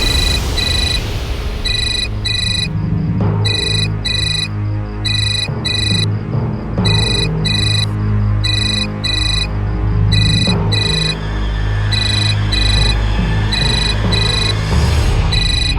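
A phone rings loudly in repeated electronic bursts, a regular trilling pattern that continues throughout over a low background rumble.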